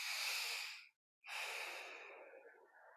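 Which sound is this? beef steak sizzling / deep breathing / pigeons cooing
deep breathing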